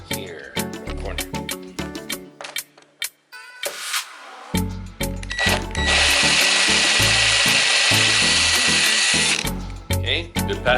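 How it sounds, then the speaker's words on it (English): Power drill boring a hole in the corner of a wooden Zwift cycling platform, short start-stop bursts and knocks followed by a long, loud, steady whine of drilling and a few final clunks. "we're gonna drill right around here in the corner"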